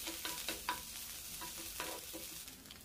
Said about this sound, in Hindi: सॉटे कर लेंगे सारी चीज़ों को, बहुत ज़्यादा देर तक नहीं भूनना है